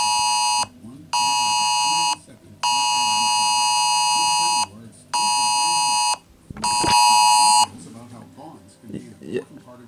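Loud, harsh emergency alert tone from a phone during a nationwide alert system test, sounding in several long bursts separated by brief gaps, with people talking faintly underneath and after it stops.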